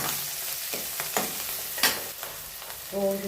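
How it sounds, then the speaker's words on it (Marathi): Onion frying in oil in a pan, reused pasta-cooking oil, stirred with a few scraping strokes over a steady low sizzle, close and fairly quiet. "छानपैकी कांदा असा भाजून घेऊया"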